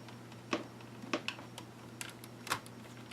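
A screwdriver backs out keyboard screws from a 2012 HP Pavilion dv4 laptop, giving small, close clicks and ticks in an irregular series of light taps.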